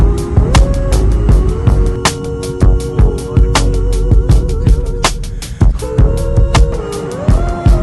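A car drives through a highway tunnel in Japan with a loud, steady road rumble and a low droning hum, broken by regular whooshing thumps as it passes fixtures along the tunnel walls.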